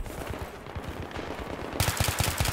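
Gunfire in Battlefield 3 on Sharqui Peninsula, rapid automatic bursts of shots in quick succession, with a harsher, brighter volley near the end.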